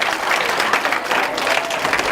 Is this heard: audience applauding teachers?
yes